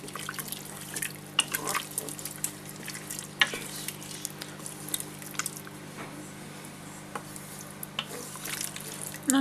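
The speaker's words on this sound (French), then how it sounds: "Je verse dans le cookéo. On met mélanger." A Cookeo multicooker stirring a thickening mixture, with soft continuous scraping and bubbling under a low hum, punctuated by small irregular clicks and splashes.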